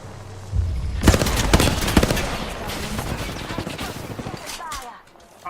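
Loud automatic gunfire in a video game starts after a brief lull and rattles on as dense, overlapping shots and bursts, tapering off near the end.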